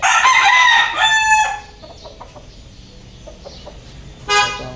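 A gamecock from a fighting-rooster handler's stable crows loudly and close by in one long, strained call, followed by quieter clucks and background noise, then the start of another crow.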